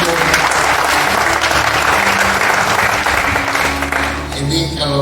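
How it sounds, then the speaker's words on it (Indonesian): Dense, sustained applause from an audience at a morning prayer session of a regional convention, loud and continuous before tapering off at the end. "Tepuk tangan dulu untuk Pak Agung."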